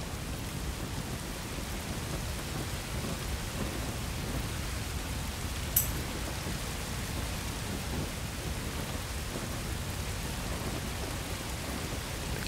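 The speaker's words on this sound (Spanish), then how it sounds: "Aquí está lloviendo." Steady rain falls in the Star Wars Jedi Fallen Order video game, an even, continuous hiss with a low rumbling bed and one brief crackle midway, no voices over it.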